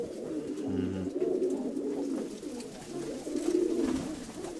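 Pigeons coo in low, throaty repeated calls, close by, with a steady murmur of several birds overlapping throughout.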